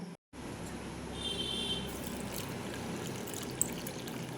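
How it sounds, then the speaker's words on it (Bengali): Water from a bowl poured into semolina in a kitchen mixer jar, a soft steady trickle and splash lasting a few seconds, fairly quiet and close, with no talk. "এক বাটি জল এখানে দিয়ে দেব"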